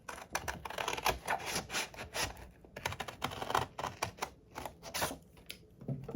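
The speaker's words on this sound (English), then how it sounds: "cut along this fold line so that it'll cut both sides at the same time" Scissors snip repeatedly through a folded paper file folder, cutting both layers at once in a quick, close, crisp rhythm of short cuts with one brief pause.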